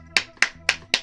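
One person claps four crisp, evenly spaced times, close and clear, with no talking.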